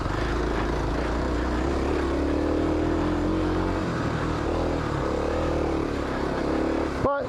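A Kawasaki KLX 250 dirt bike's single-cylinder engine drones loud and steady while riding, a continuous close motor hum with wind noise and no pauses.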